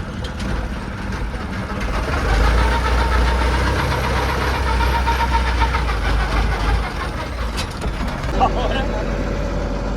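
A loud, steady ferry boat engine drones and rumbles close by for the whole stretch, with a low knocking throb beneath a dense roar and a brief clatter near the end, on a boat leaving an island jetty.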